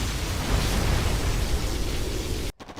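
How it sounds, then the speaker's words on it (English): Particle cannon blasts strike a base in the real-time strategy game C&C Generals Zero Hour, a loud continuous roaring rumble of explosions that cuts off abruptly near the end. "Got a particle cannon hitting the base again."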